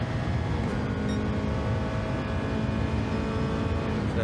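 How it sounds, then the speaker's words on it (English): Race car engine in the Gran Turismo 7 video game at the Sardegna circuit, a steady, continuous drone held at constant loud level throughout with no breaks or gear changes evident. "by the sound of it, by the feel of it, the car's doing perfectly alright, no drama"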